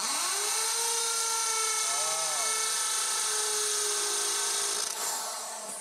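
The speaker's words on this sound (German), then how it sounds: "Nur das Bohren in die harte Betondecke verschleißt Mensch und Maschine." A drill grinds continuously with a high, harsh whine, its pitch wavering slightly as it bores into a hard concrete ceiling.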